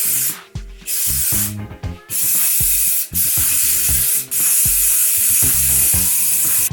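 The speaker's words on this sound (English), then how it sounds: "I just want to start putting some hairspray in it." Hairspray from an aerosol can misted onto hair while styling a high ponytail, heard as several long, loud, close hissing bursts broken by brief gaps and faint handling noises.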